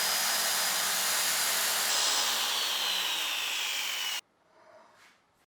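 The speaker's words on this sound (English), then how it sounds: "We'll start behind this workpiece, get the saw going, and then push through the cut." Circular saw crosscutting wood in a crosscut jig, a loud continuous whine through the cut for about four seconds, then cutting off abruptly and leaving only faint spin-down noise.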